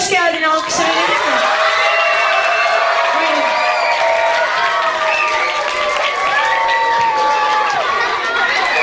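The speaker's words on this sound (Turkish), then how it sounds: "Kocaman bir hoş geldin alkış verelim mi?" A school audience at Şahinkaya College cheers and applauds to welcome author Cemil Kavukçu, a loud, continuous roar of clapping mixed with high excited shouts and whoops from many children, sustained throughout.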